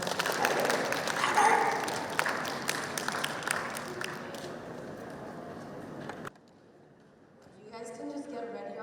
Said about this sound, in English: So, ladies and gentlemen, give a huge, huge round of applause for Iman Ahmed.